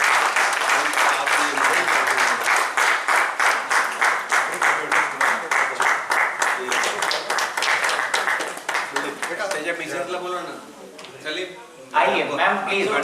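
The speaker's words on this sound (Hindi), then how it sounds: "जोरदार तालियां।" Loud, sustained applause from the audience at an award ceremony as a doctor is called up to receive an Icon Award; dense clapping continues steadily, then thins near the end as a voice speaks over it.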